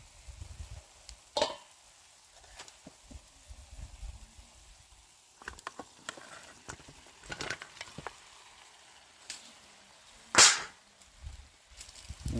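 Pieces of rooster curry meat going into a hot pan in a mango orchard, giving quiet sizzling with scattered close clatters and scrapes, and one louder sharp sizzle burst near the end.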